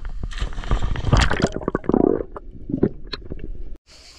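Water slaps and gurgles against the hull of a sailboat moored off Porquerolles, a close, irregular run of wet sloshes and soft knocks that stops abruptly near the end.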